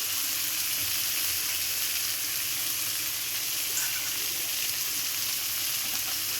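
Fish frying in a pan after salt is added, giving a steady, close, even sizzle and hiss that runs unbroken throughout, with no talk.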